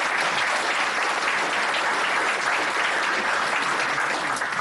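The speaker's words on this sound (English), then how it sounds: "Please give an appreciative applause." Loud, dense audience applause at a police association Diwali celebration, a continuous steady wash of many hands clapping throughout with no speech over it.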